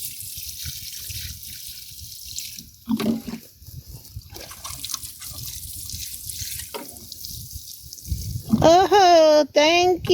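Tap water runs for watering young garden plants on a small homestead, a steady hiss over quiet background sounds with a few brief bumps, then a louder burst near the end with high whistling tones.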